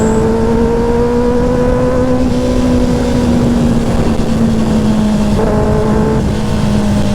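A vehicle engine drones steadily as it overtakes a truck on the road near the Kaybiang Tunnel, loud and close, with its pitch sliding slightly under constant road and wind noise.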